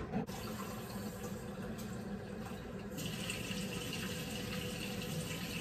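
Water from a tap runs steadily into a mixing bowl of cake batter, a continuous close splashing pour that grows slightly brighter and fuller partway through, with no talk over it.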